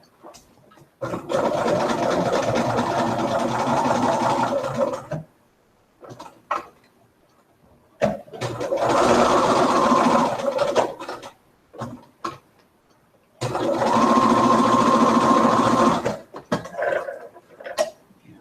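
A sewing machine stitches around the edge of a fabric bib in three sustained, close runs of a few seconds each, separated by short quiet pauses with small handling clicks and no talk.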